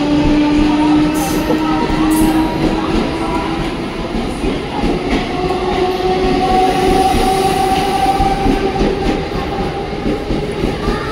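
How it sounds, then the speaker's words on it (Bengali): A train rolls into a station, its loud continuous rumble and wheel clatter filling the air with long tonal squeals and whines from the cars over the steady roar. "তো ট্রেন আসার সময় হয়ে গেছে"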